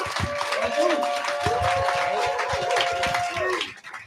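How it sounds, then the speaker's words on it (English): An audience applauds a college football national champion at a sports business event, a close, dense burst of clapping and crowd noise that fades out at the end. "Can I get one more hand of applause for national champion Donovan Edwards?"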